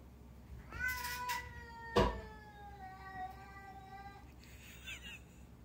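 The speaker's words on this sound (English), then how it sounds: "My cat was crying so much from being locked in the bathroom" A pet cat locked in a bathroom meows and cries repeatedly, several drawn-out plaintive wails close to the door, with a sharp thump between calls and a muffled room hum underneath.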